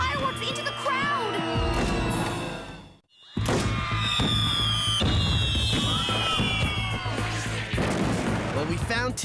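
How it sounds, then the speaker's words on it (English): Cartoon fireworks launched into a crowd, a dense run of loud bursts and crackling pops under frantic voices and crowd noise, with a brief silent break before the barrage resumes. "He's shooting fireworks into the crowd."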